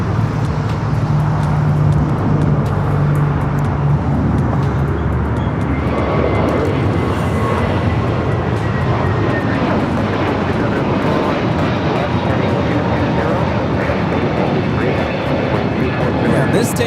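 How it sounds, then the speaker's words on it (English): A United Airlines Airbus A321neo takes off at Los Angeles International Airport, its engines a steady loud roar that fills the whole stretch with broad rumbling noise, while people talk faintly over it. "This takeoff is United Airlines 2302, taking off to Denver, Colorado on the A321neo."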